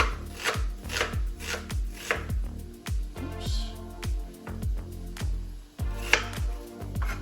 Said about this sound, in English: I'm going to use half that onion, don't need the whole onion